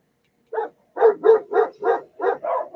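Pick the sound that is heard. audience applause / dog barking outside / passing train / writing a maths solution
dog barking outside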